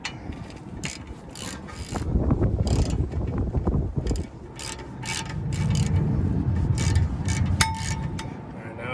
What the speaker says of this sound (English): Now we're just going to tighten these up.